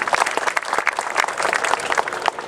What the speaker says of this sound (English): So applause to them, please.